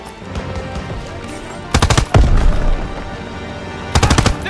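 Bursts of machine gun fire from a Call of Duty WW2 firefight, loud rapid volleys around two and four seconds over a background of distant shooting and battle noise.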